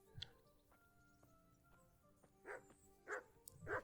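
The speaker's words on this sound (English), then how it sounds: "Dog barking." Dog barks several times in a Kingdom Come: Deliverance medieval market area, sharp bursts clustered toward the end over a low, steady background of ambient hum and faint town noise.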